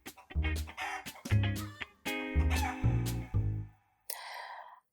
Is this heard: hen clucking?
yes